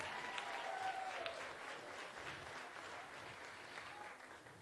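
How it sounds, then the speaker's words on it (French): An audience claps at a live music event, a steady burst of applause that stays fairly faint and distant throughout. "On l'applaudit."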